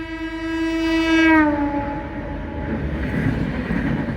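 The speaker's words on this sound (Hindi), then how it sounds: "ये दूसरा ओवरटेक पड़ता हुआ चेन्नई एकता नगर सुपरफास्ट" A Chennai–Ekta Nagar Superfast train overtakes, its loud horn blaring for about a second and a half before falling in pitch, followed by steady rumbling rail noise close by.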